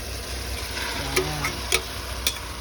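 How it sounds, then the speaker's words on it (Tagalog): Marinated pork and its sauce hit a hot frying pan with a soft, continuous sizzle, while a utensil knocks against the pan a few times. "Ilalagay ko na po itong yung minarinate natin na pork. Lagay po natin lahat pati yung kanyang sauce."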